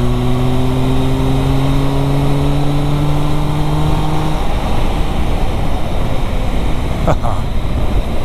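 A Triumph Tiger Sport 1050 motorcycle engine runs loudly and continuously, its pitch rising as it revs, then settling into a steady roar, with a brief knock near the end.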